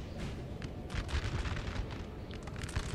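Enemy troops open fire in the Napoleonic-era strategy game Napoleon: Total War, a dense, rumbling roll of massed gunfire that crackles and booms continuously over a few seconds.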